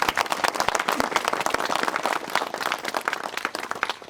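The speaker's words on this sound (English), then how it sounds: "could we please give a round of applause and thanks to all the healthcare providers and partners" Audience applause for healthcare providers at a college ceremony launching a physician assistant program in West Virginia, brisk continuous hand clapping from a crowded room, close and fairly loud.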